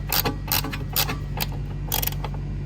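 Nuts being tightened onto handbrake conversion bolts on a JZX100 produce quick bursts of ratcheting clicks, four or five short runs close up over a low steady hum.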